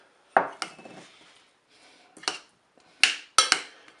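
Tuna salad with shallots being stirred in a bowl, a handful of sharp clinks and scraping knocks in uneven bursts, close and clear with no talk.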